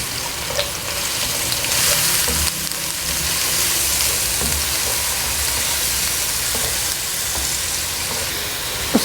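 Onion paste fries in four tablespoons of hot oil, giving a loud, continuous close-up sizzle and hiss with a few faint clinks, and no talking.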